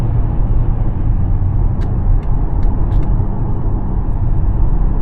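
A 2025 VW Touareg R-Line with a 3.0 V6 TDI diesel accelerating hard, heard from inside the cabin as a steady, loud low rumble with road noise, plus a few faint brief clicks.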